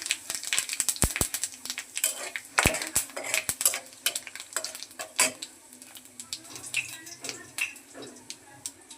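Dried red chilies, bay leaves, cardamom, cinnamon and cumin temper in hot oil in a pan, a crackling sizzle broken by frequent sharp metal clinks and scraping from a stirring spoon.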